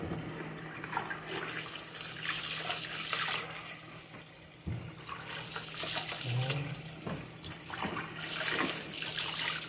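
Silver scabbard fish being rinsed under a running tap, steady broadband water rush throughout with brief splashing and handling noises, close and fairly loud, no talk.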